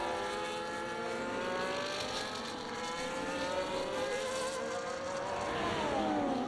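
A McLaren in a Formula 1 racing game pulling down pit road in Miami, engines whining steadily with shifting pitch as cars rev and pass, loud and continuous with no talk.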